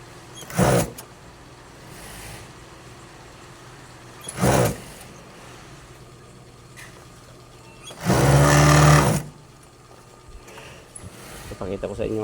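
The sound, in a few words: five-thread sewing machine stitching pants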